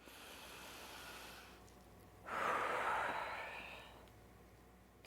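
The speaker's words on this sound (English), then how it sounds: "Now, let's take a deep breath." A slow, deep breath is drawn in after a quiet pause, a soft airy inhale that swells and then fades, close to the microphone with no talking.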